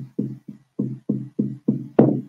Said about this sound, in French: Et qu'à chaque battement de cœur,